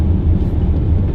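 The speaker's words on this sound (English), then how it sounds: "The car is very loud in every regard, in terms of road noise," A Dodge Viper GTS on the move gives a heavy, steady low roar of engine and road noise from inside the cabin, loud and unbroken.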